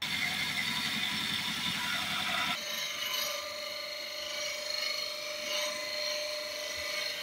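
A woodturning tool cuts a wooden bowl spinning on a lathe, giving a steady scraping, hissing rasp that runs throughout, heavier and rougher for the first couple of seconds and then lighter and smoother after the tool is sharpened.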